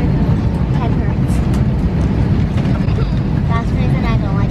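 Steady, loud airplane cabin rumble during the descent for landing on a flight to Punta Cana, a continuous low roar with faint higher tones drifting in and out.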